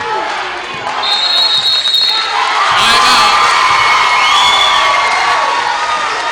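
A gym crowd at a girls' varsity basketball game cheers and shouts loudly, with whistles, sneaker squeaks and commentators talking over the steady roar.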